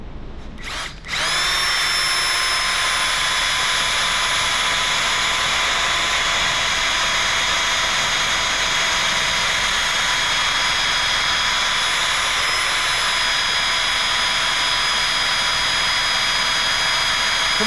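A power drill bores steadily through a steel plate, a loud, continuous high-pitched whine starting after a brief knock and holding without a break near the microphone.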